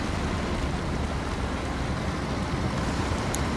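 A truck in the SnowRunner video game drives through sea water, giving a loud, dense, continuous churning rumble of water and engine that stays steady and unbroken, with no talk.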